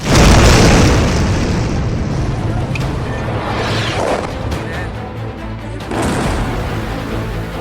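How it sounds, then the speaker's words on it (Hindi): An explosion at Nur Khan airbase in Rawalpindi: a loud, heavy boom opens and then rolls into a sustained rumbling roar, with further crashing bursts later on. "रावलपिंडी नूर खान एयरबेस पर धमाका हुआ"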